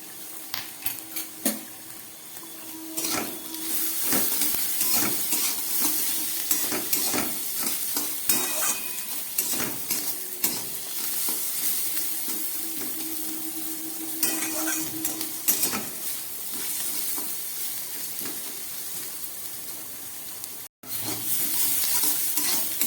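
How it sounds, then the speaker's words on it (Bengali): Carrots and potatoes fry in a pan for a flattened-rice pilaf, a steady close sizzle broken by repeated scraping stirs of a spoon against the pan, with no talk for the whole stretch. "প্রায় দু মিনিটের মতো আমি গাজর আর আলুটাকে ভালো করে ভেজে নিলাম"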